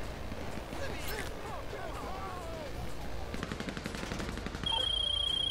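Gunfire from the video game GTA V Online rattles in rapid bursts under a busy game mix, growing louder and more continuous toward the end, with a voice talking over it.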